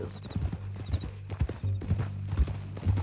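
Horse hooves clip-clop in a steady walking rhythm inside a video game, close and clear over a low engine-like hum, with a brief whinny-like sound and faint character dialogue mixed in.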